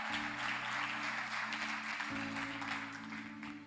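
A church congregation applauds during a Sunday morning service, a broad, distant wash of many hands clapping that sits beneath a sustained organ or keyboard chord, fairly soft and continuous throughout.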